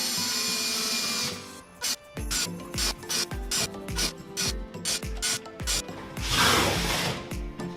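Screws driven into a plywood box during assembly give a close, rapid ratcheting clatter in a long run of short repeated bursts, ending in a longer grinding stretch, with no talk.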